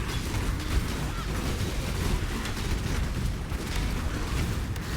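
Explosions in the action role-playing game Path of Exile, a loud, continuous wall of dense blasts and crackling noise that runs without a break.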